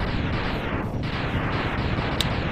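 Explosion in the Mega Man X video game, a loud continuous roaring blast filling the whole clip with dense low rumble and crackle, without talk.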